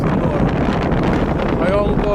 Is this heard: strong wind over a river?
yes